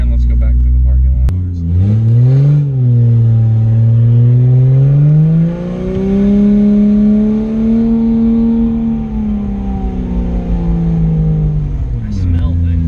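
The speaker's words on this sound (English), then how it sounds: "Seems like it's taking a lot of throttle to get the tranny to move." A car's engine drones and rises and falls in pitch while driving slowly through a parking lot, its automatic transmission struggling and needing heavy throttle, loud and close from inside the cabin, steady for most of the stretch.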